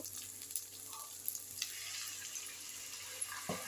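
Spices with turmeric and Kashmiri chilli, plus a splash of water, fry in a pan with a soft continuous sizzle and faint stirring scrapes, low and steady throughout.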